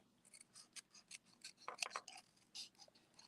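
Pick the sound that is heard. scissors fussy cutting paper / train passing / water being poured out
scissors fussy cutting paper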